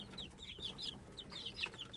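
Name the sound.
chicks and chickens peeping and clucking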